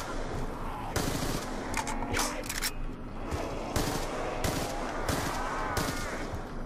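Repeated gunfire from a submachine gun in the video game Black Ops 2 Zombies, on the Buried map. Loud, sharp bursts of shots come in clusters over about six seconds, with only faint speech in the background.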